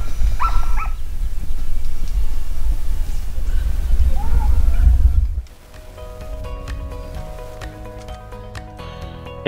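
Hunting dogs bark and yelp in a frenzy at a Spanish montería in the reforested land of Oliva de Mérida, loud and close for about five seconds before the barking drops to a fainter background under other sounds.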